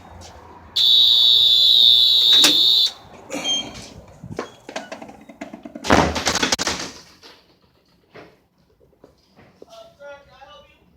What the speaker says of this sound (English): There's a buzzer there, let's press it.